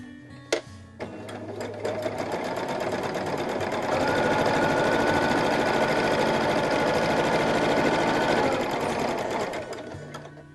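A sewing machine stitches over fabric in a long, fast, even mechanical whirr that starts with a few clicks, runs loud and steady, then winds down near the end.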